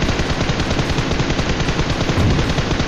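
Dense automatic gunfire in the PUBG Mobile video game, a loud continuous rattle of rapid shots lasting the whole stretch with no pauses.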